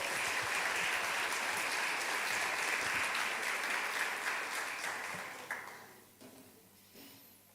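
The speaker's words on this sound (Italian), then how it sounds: "Facciamo un applauso." A church congregation at an Italian worship service in Verona breaks into steady, full applause that holds for several seconds, then tapers off and fades into near quiet.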